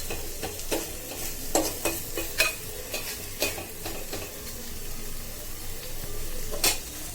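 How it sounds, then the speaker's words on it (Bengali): Loitta dried fish bhorta frying in pungent mustard oil, a close steady sizzle broken by repeated scraping and clinking stirs of a utensil against the pan, no talking. "লইট্টা শুটকির ভর্তা তেলে দিয়ে দিলাম"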